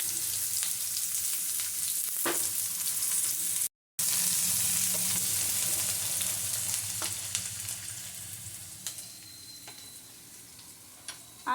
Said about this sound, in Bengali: তেলটা আমার গরম হয়ে গেছে। আমি পেঁয়াজ কুচিগুলো দিয়ে দিচ্ছি।